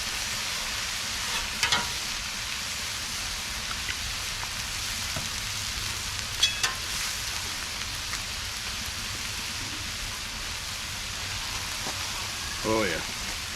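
Tortillas frying on a griddle while cooking outdoors in a backyard, a steady crackling sizzle throughout with a few sharp clicks and bumps, and a voice briefly heard near the end.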